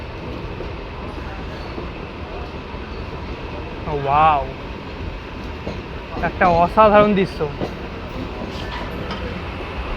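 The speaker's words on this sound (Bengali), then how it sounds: "ট্রেন ধীরে ধীরে নলহাটি স্টেশন এন্টার করছে।" A steady, loud rumble from inside the 63026 Rampurhat–Azimganj passenger train as it slowly enters Nalhati station in the rainy season; someone speaks briefly over the continuous rolling noise.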